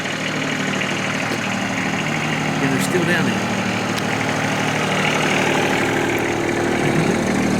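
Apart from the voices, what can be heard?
tractor engine idling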